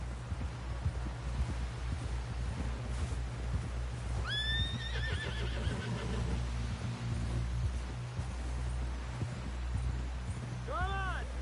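A horse in the Red Dead Redemption 2 video game whinnies twice, once midway and again near the end, over a steady rumble of hooves and game ambience, with voices talking beneath.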